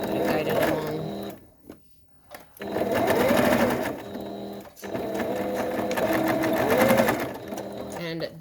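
Sewing machine stitching a fitted fabric mask in fast continuous runs of rapid needle chatter, broken by a brief pause and a few clicks, with a voice speaking over it.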